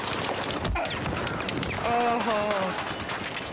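Rapid bursts of automatic gunfire in Battlefield 4 on PS4, dense and continuous with overlapping shots and whizzing effects, while a player briefly exclaims over the top.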